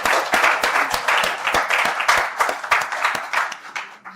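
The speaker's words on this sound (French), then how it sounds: "j'aimerais vraiment qu'on l'acclame encore une fois" An audience at an entrepreneurship conference applauds a speaker, a dense, steady clapping from many hands that carries on throughout and fades a little toward the end.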